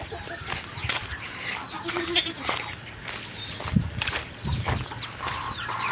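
Chickens cluck and call around a hen's nest tucked inside a goat shed, with scattered short clucks, rustling and footsteps close by, and a person speaking intermittently over them.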